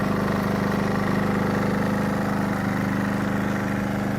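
Champion C2500iS inverter generator running at a steady idle, a continuous close engine drone with a low, even hum and no pauses.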